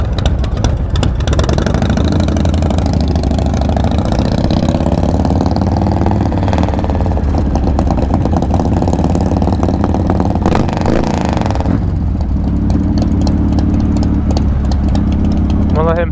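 A motorcycle idles with a steady low rumble and occasional revs at the 2021 Baldwin Blessing of the Bikes pre-rally party. The engine runs throughout under crowd chatter.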